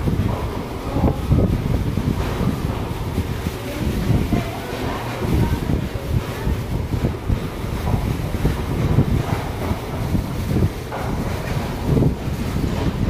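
Steady wind buffeting the microphone, a constant low rumble with rushing gusts that never lets up for the whole stretch.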